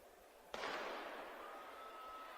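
A starting gun fires once at the start of a track race at a national championship meet, a sharp crack over crowd noise followed by a long decaying echo through the stadium.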